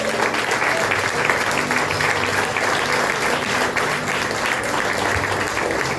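Church congregation applauding loudly and steadily, sustained dense clapping filling the room for several seconds.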